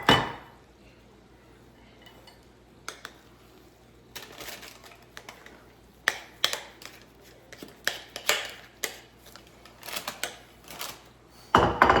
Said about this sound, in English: Now we're going to put it nice in my little baking dish.